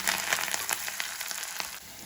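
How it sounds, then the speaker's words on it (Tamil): Cumin and mustard seeds tempering in hot ghee, a close steady sizzle with scattered small pops and crackles of bursting seeds. "இப்போ இதை தாளிக்கணும்."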